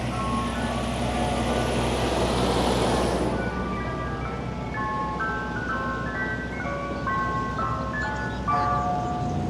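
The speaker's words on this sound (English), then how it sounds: "Ice cream store, ice cream truck." Ice cream truck jingle playing on Fordham Road in the Bronx, a tinkling melody of repeated notes over steady street and traffic noise, moderately near.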